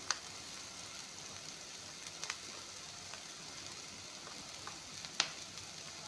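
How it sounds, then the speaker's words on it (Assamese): Onion and green chillies fry in a pan with a soft, steady sizzle, punctuated by a few sharp clicks and scrapes of stirring. "পিঁয়াজ জলকীয়াখিনি অলপমান ভাজি ল'লোঁ"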